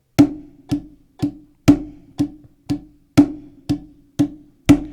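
A snare drum played alone in even, steady eighth-note triplets, ten crisp sharp hits with short decays, close and fairly loud.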